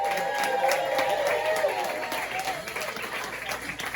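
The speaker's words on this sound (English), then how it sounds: "Please give a warm welcome. Let's start clapping right now for Jamie Carbone." Comedy club crowd at the Funhouse Lounge applauds to welcome a comedian, a short burst of clapping and light cheering that tapers off, with the host's voice faint underneath.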